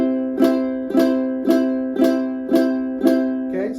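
A ukulele chord strummed six times in a steady rhythm, each strum ringing out clearly and decaying before the next, played close with no talking.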